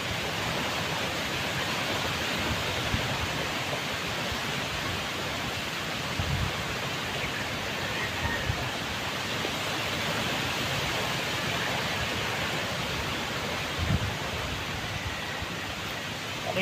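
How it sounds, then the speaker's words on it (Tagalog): Strong wind blowing outdoors makes a steady, loud broadband roar throughout, with a couple of brief low buffeting thumps and no voices. "Lakas pa rin ang hangin."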